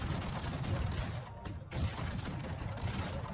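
Musket volleys crackle in a Cossacks 3 battle at Kesselsdorf during the Prussian campaign, a dense continuous fusillade of overlapping shots with a brief dip partway through, busy and loud throughout.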